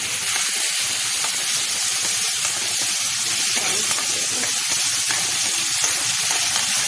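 Tomatoes for a soybean curry fry in a hot pan, a loud, dense and unbroken sizzle with faint stirring scrapes beneath it, close and with no voices.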